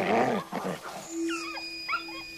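Feral dogs interbred with wolves, resembling medium-sized Australian dingoes with straight hair and long snouts, give a few wavering whines and howl-like cries over a low steady tone, fairly close and moderately loud.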